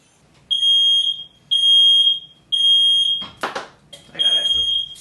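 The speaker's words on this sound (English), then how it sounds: "Fire alarm just went off." Smoke alarm beeping in a kitchen while Hatch chiles broil, sounding as four loud, even piercing chirps in steady rhythm, with a brief burst of clattering and a voice between the later beeps.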